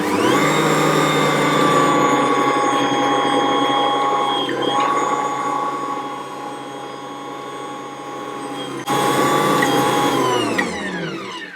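An Ankarsrum mixer works hot cross bun dough with mixed peel, a loud steady motor whir with tonal hum that dips in level partway through, then jumps back up before winding down.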